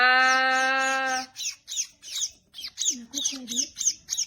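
Young birds squawk close by: one long, harsh cry followed by a rapid series of short, shrill squawks.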